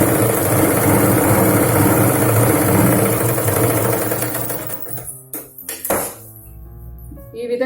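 A sewing machine stitches a Punjabi dress with a fast, steady mechanical whir that runs loud for several seconds, then slows into scattered clicks and clinks of the needle and presser foot before briefly picking up again.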